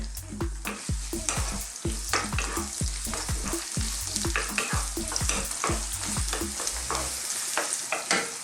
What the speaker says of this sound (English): Now I'm going to drop in some onions. Using a red onion.